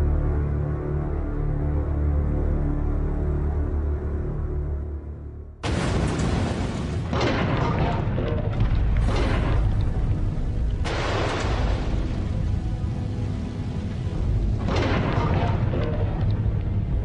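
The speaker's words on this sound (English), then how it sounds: "watch the explosion on a monitor" A sudden loud explosion breaks a low rumble, followed by a long roaring, crackling aftermath with repeated surges of rushing noise.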